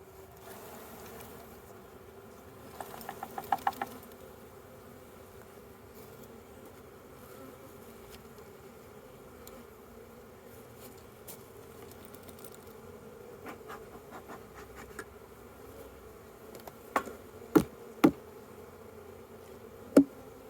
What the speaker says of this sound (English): I am going to take these bees and shake them into this box